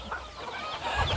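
Chickens cluck in a short, close flurry as someone chases and tries to catch them on a Thai rural homestead.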